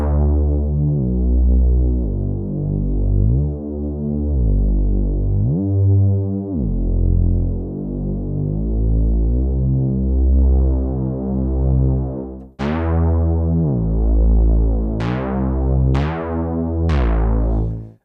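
Synthesizer bass in a sub, 808 or Reese style with portamento, legato and filter cutoff adjusted, deep sustained notes gliding smoothly between pitches in a looping line, later joined by sharp plucked stabs, loud and alone without speech.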